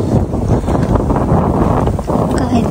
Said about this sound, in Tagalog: Ang hangin talaga.